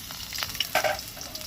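Plenty of finely chopped garlic frying in hot oil, a close, bright crackling sizzle with a brief louder burst midway.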